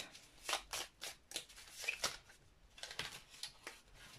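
A deck of oracle cards being shuffled by hand, giving repeated soft papery riffling bursts in an irregular rhythm, close and fairly quiet, with no speech over it.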